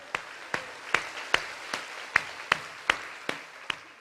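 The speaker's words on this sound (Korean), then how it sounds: "하나님께 영광의 박수 올리겠습니다" In a Korean church service, about ten even, evenly spaced claps sound in a slow steady rhythm, fairly soft and clean, with a quiet room behind them.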